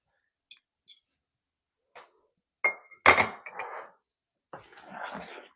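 A spoon mixes egg into cake mix in a bowl, giving a few sparse, separate clinks and short scrapes with quiet gaps between them, close and fairly soft.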